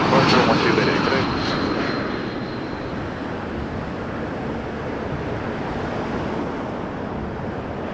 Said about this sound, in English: Triple 7-200 on its downwind turnover here.